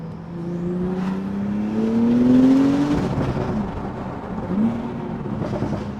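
A 2018 Porsche 911 T accelerating hard on twisty back roads, its engine note climbing steadily in pitch through the revs, then dropping with a gear change before rising again, loud and close from inside the car.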